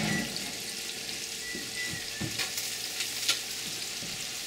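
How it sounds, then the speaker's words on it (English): Frozen sweet potato fries frying in hot grease beside broiled rainbow trout, giving a soft, even sizzle with faint crackles and a few light clinks. There is no talk. "when you need to put the sweet potato fries on to cook. Put them in frozen, and then it takes a little bit for the grease to heat back up again"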